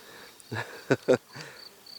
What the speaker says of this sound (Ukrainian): Бджола потроху гудить на квітах.